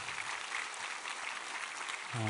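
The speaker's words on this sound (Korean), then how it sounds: "우리 하나님께 큰 박수로 영광 올려드리겠습니다." A church congregation applauds in a steady, dense round of clapping during a Korean Sunday family worship service, fairly even throughout and ending abruptly.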